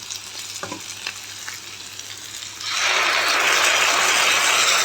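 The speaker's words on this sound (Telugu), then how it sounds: "పచ్చిమిర్చి అల్లం వెల్లుల్లి కోసి టమోటాస్ వేసి మిక్సీ పెట్టుకున్నాం కదా ఇందాక ఆ పేస్ట్ అనమాట ఇది బాగా వేపిస్తున్నాం" A paste of tomato, green chili, ginger and garlic hits a hot pan and breaks into a loud, steady sizzle, preceded by a few light clinks and stirring scrapes.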